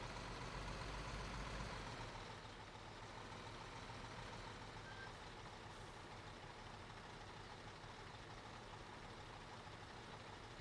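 A truck pulling a trailer in Construction Simulator 2015 drives with a steady, loud engine drone and road rumble, a brief heavier burst at the start, then continuous running with no talking.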